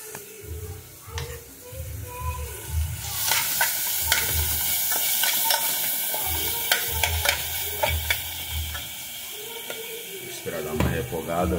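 Tomato sautés in a hot pan for a chicken-feet stew, a steady sizzle close by with repeated scraping and clacking of a utensil stirring through it.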